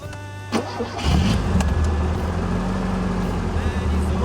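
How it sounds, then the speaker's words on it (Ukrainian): A VAZ-21043 fuel-injected car engine turns over twice, then catches and settles into a steady low idle, close by, with faint voices in the background. "Два рази колінвал крутнувся і завівся"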